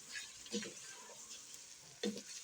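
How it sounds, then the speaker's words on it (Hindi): Masala with chopped tomato, turmeric and salt being stirred in a pan, producing soft sizzling and faint frying crackle, with a couple of louder scraping strokes of the spoon at quiet volume. "बस थोड़ा सा ही चला लेंगे इसे"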